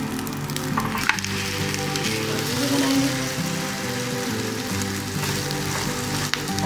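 Breakfast food frying in oil in a pan, a steady, close sizzle and crackle running throughout with a low hum underneath.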